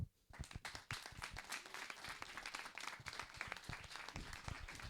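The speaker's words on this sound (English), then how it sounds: "I'd like to everybody give a warm applause for our next guest" An audience at a Korean religious celebration event claps warmly to welcome a guest speaker, dense clapping starting after a brief quiet moment and continuing strongly and evenly, fairly close, with no talking over it.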